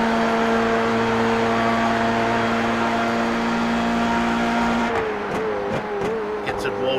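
A Formula-style race car engine in iRacing drones loudly at high revs, then drops sharply in pitch under braking, followed by quick downshift blips and revving stabs as it slows through a chicane.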